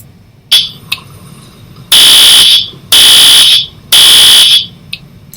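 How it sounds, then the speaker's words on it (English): A loud, shrill school fire alarm sounds in three long, evenly spaced blasts, preceded by a couple of short chirps, ringing piercingly close by. "This is what the fire alarm will sound like."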